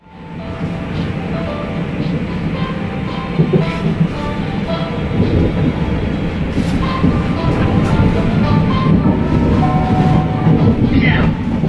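A Czech passenger train riding the rails toward Prague, with steady loud rumbling and clattering of wheels on track throughout, close and continuous, with a brief higher squeal near the end.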